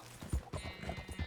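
Horse hooves clip-clopping in the video game Red Dead Redemption 2, a quick uneven run of soft thuds at low volume, fairly close.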